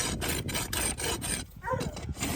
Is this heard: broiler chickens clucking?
no